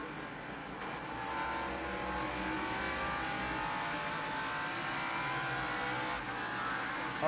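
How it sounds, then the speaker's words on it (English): NASCAR Winston Cup stock cars race around the North Wilkesboro short track in 1989, with engines roaring steadily as they accelerate and pass, heard from a distance with no talk over them. "You could hear Michael get off the accelerator, and boy, Darrell was right there to nail it and pass him."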